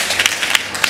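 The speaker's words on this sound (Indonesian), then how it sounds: "Tepuk tangan buat Tuhan Allah kita." A church congregation at a Sunday worship service claps in praise, a brief burst of close, uneven hand claps with sharp individual slaps.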